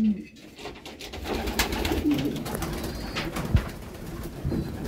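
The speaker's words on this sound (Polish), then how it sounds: "Jesteśmy w gołębniku rozpłodowym." Racing pigeons coo softly in a breeding loft, low throaty calls repeating over a bustling background of fluttering and shuffling.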